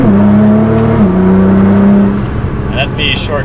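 A Nissan GT-R fitted with a big power upgrade pulls hard in second gear, its steady engine drone loud and close, dropping pitch briefly at a shift before a person starts talking over the end.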